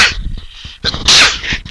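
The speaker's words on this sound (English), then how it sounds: "I'm going to sneeze here in a second, and I apologize." A man's sneeze bursts out loud and close in a single sharp blast, with a short breathy intake before it, heard alone with no talk.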